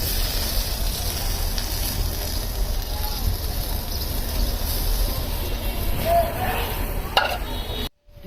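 Rui fish braising with tomato and peas in a pan, giving a steady close sizzle and bubbling that runs throughout, with a few brief clinks near the end before a sudden cutoff.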